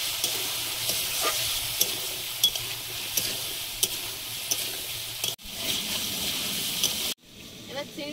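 Prawns and potatoes sizzle steadily in a hot pan, with a spatula scraping and stirring in irregular clicks, close and moderately loud, before the frying cuts off and a brief quieter rattle follows; a voice is faintly present.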